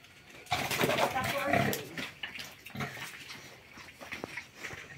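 Pigs grunt and squeal in a farm pen, loud and overlapping in a busy, noisy mix, with people talking in the background.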